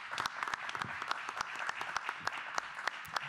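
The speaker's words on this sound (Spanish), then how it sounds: "Les damos un aplauso entonces y seguimos debatiendo." Sparse, fairly quiet applause from a small audience after a panel discussion at a digital television conference, individual claps distinct and irregular.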